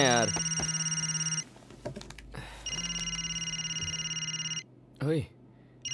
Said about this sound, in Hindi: हे विमल, फोन उठाना यार।